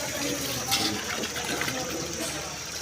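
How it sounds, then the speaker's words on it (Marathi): Water gushes steadily from a hose pipe into a container, a continuous close splashing pour with a few brief bubbling surges and no talk. "पाईपाने पाणी घेतलेले आणि पाणी भरत आहे"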